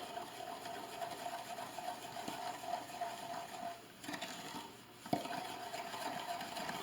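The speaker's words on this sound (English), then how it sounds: "mix that in well" Homemade dishwasher pod mixture gets a few drops of food coloring stirred in, a faint, continuous scraping and swishing of a utensil in a bowl with a few soft knocks, heard alone and quiet.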